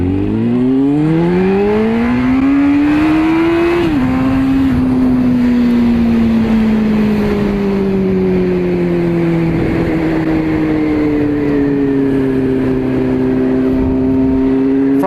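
A Honda FireBlade motorcycle accelerates hard, with its engine note rising through a gear change and then holding a long, loud, steady drone under strong wind rush.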